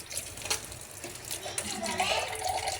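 Tap water runs into a cooking pot for boiling tulingan fish, a steady splashing fill that rises slightly in level toward the end, with a voice and other speech faintly in the background.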